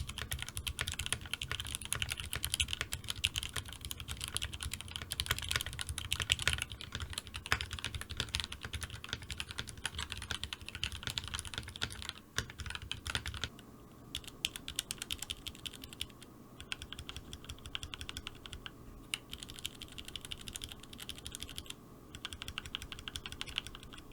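Mechanical keyboard fitted with switch accessories, typed on in a steady, rapid clatter of keystrokes that continues throughout, close and fairly quiet with no talking.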